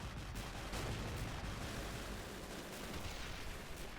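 Machine gun fire in the video game Men of War: Assault, a dense, continuous crackle of distant automatic gunfire and rumbling battle noise, faint and steady throughout.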